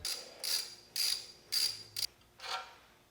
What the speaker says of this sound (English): So we're going to take off that bolt.